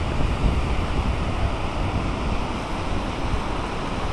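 Ocean surf rolling steadily onto a beach at Montañita, a continuous loud wash of breaking waves with wind buffeting the microphone throughout.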